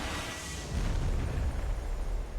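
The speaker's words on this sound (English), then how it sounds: "That's a huge explosion." A huge bridge explosion in the video game Triangle Strategy, a loud deep boom that swells after a moment into a sustained low rumble lasting a couple of seconds.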